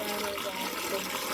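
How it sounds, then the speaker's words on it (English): Water pouring steadily into two water carriers at a van campsite, a continuous close rushing hiss of filling with no talk. "The two water carriers filled right to the top."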